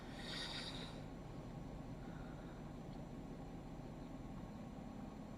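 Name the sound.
truck engine idling outside a house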